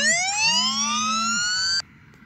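An anti-theft alarm app on a mobile phone sounds a loud, rising electronic siren wail for nearly two seconds, then cuts off abruptly, leaving a faint hum.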